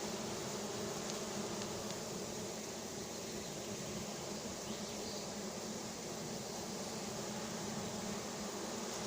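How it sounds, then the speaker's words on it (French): A swarm of honeybees being hived into a new hive, a dense continuous buzzing hum from many bees close by, steady and unbroken with no talking. "Et là au moins t'as un bon paquet d'abeilles."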